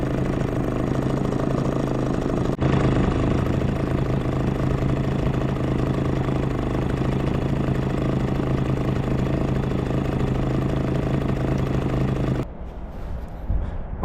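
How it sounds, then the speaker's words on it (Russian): Close and loud, a Sea-pro T2.6S small outboard motor drones steadily on a boat during slow break-in running, holding an even pitch until it cuts off near the end, leaving quieter water and wind noise. "Так потихоньку обкатывать мотор"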